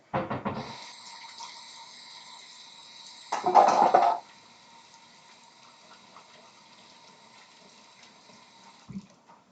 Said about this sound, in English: I'm going to give my hands one last wash to get ready